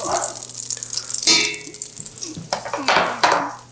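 Sofrito vegetables go into a hot pan for osso buco, bringing clattering metal, scraping and stirring against the pan along with bursts of sizzle, all close and fairly loud.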